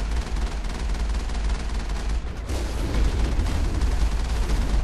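Heavy, sustained weapon fire from a Colossus in the Mass Effect video game, a dense loud barrage of booming blasts that continues without pause.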